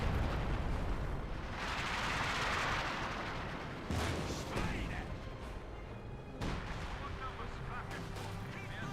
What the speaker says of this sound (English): Yep, those are British artillery.